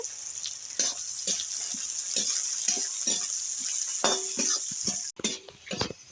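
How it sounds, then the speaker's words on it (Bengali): Chopped carrot, cashews and raisins fry in a kadai for a Bengali sweet pulao, a steady sizzle broken by repeated stirring scrapes and occasional clinks, close and fairly loud with no talk. "গাজর কুচি সামান্য ভাজা ভাজা করে নেবো আর দেব কাজু আর কিশমিশ এগুলো একটু ভাজা ভাজা করে নেব"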